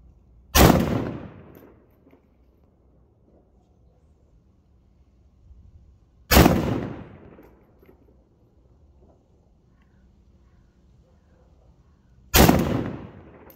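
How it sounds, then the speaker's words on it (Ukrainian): Three single rifle shots are fired at a target on a range, each a sharp, loud crack with a short decaying tail, spaced about six seconds apart, with quiet in between. "робимо три одиночних постріли на видоху, спокійно, не спіша"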